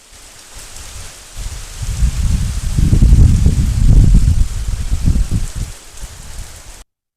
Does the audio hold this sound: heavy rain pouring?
yes